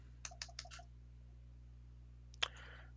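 Four quick keystrokes clack on a computer keyboard, then a louder key press with a short rattle of typing, all close and alone over a steady low hum.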